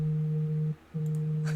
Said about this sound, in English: I think his phone's going off.